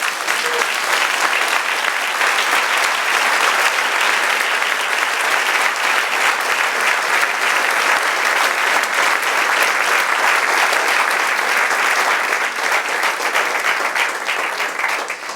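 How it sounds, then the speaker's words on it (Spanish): Sustained loud applause from a large church congregation, dense and even throughout, with no break and a slight fade at the very end. "Denle un aplauso al Señor"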